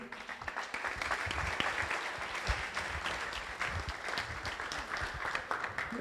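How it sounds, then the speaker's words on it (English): Sustained applause from a conference audience at an enterprise software talk, a steady dense patter of many hands clapping for several seconds without speech. "Round of applause, please."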